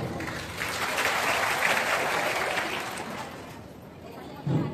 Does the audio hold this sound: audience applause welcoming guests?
yes